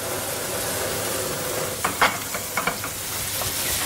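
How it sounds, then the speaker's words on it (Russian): A crepe and apple slices fry in a pan, giving a steady close sizzle with a few soft clinks and scrapes of stirring near the end. "Пока потихоньку жарится блин, жарятся яблоки"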